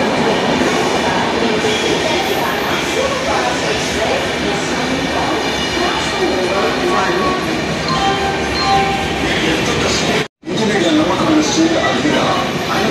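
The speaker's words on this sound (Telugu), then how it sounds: "నేను ఎక్కే ట్రైన్ అయితే వచ్చేసింది" A loud, steady rumble and rattling clatter of a train pulling into a station nearby, continuing without pause.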